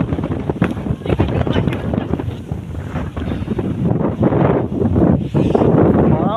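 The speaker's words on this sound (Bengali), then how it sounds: "বাতাসের আওয়াজটা বেশি হয়ে যাচ্ছে বন্ধু।" Strong wind sweeps across an open rice field, battering the microphone with loud roaring gusts throughout, and speech is partly audible beneath the noise.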